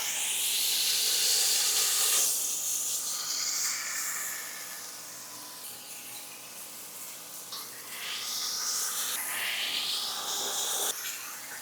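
Seasoned smash burger patty sizzles on a hot flat top griddle, a steady loud broadband hiss filling the whole stretch with a slight dip midway before swelling again.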